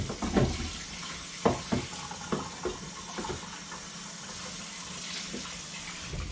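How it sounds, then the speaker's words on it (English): Kitchen faucet runs water into a sink with a steady faint hiss and brief splashy bursts at the start, low in level. "Pardon the faucet running."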